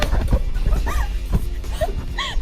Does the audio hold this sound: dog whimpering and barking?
yes